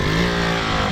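A KTM motorcycle engine revs in a brief, loud, sustained burst as the rider starts a wheelie, the tone held steady and throaty for under a second.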